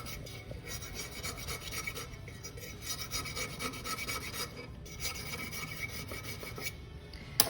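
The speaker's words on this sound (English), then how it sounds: "I use the back and I just kind of go around like this and scrape off. Scrape the epoxy off the edge." Back of an X-Acto knife scraping cured epoxy off the edge of a black and silver mica tumbler, a steady close rasping scrape running continuously with small rhythmic strokes.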